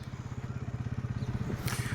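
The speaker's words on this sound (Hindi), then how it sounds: "मोटरसाइकिल के ऊपर हमारा सफ़र रवा दवा है इंडिया की तरफ" A motorcycle rides toward the India–Pakistan border near Pakistan's last village, its engine a low, fast, steady throb heard close and continuous for the whole moment.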